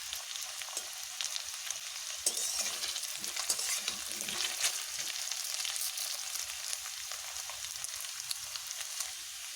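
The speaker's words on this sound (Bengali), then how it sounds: "এগুলোকে আমি একটু বেশ ভালোভাবে ভেজে নেব, একটু লাল লাল করে ভেজে নেব।" Whole garam masala, dried red chillies and a clove frying in hot oil, a soft, steady crackle and sizzle with occasional stirring scrapes, close and moderately quiet, with no voices.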